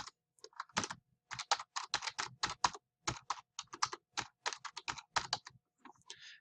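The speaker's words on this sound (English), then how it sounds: "Then you type in your password and click Sign In." Someone types a password on a computer keyboard, giving crisp, close clicking keystrokes in quick irregular runs separated by short pauses, alone and fairly quiet.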